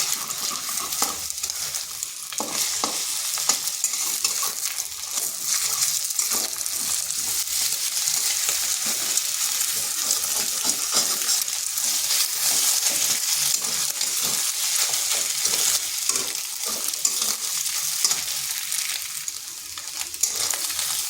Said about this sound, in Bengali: ডিমটা আমি ডিমের ভুজিয়া তৈরি করে নিচ্ছি